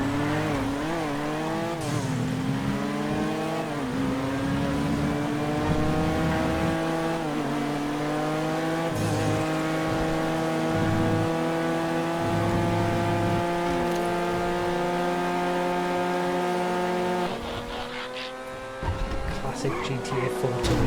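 A Turismo sports car from GTA 4, driven in GTA FiveM, revs hard with its engine pitch climbing and dropping through repeated gear changes, loud and close for a sustained stretch, with a brief tire squeal near the end.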